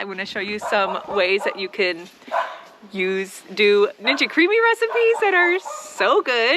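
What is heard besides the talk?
dogs barking in the background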